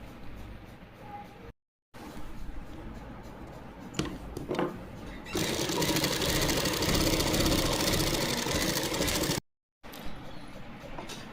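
Sewing machine stitching slanted pleats into fabric, a steady loud mechanical whir running for about four seconds after softer handling noises, then stopping before quiet resumes.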